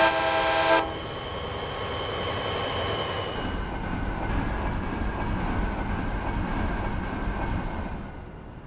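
A Siemens SCB-40 Charger locomotive in Train Simulator Classic on the Miami to West Palm Beach route opens with a short, loud horn blast, then settles into a steady rolling rumble of wheels and carriages.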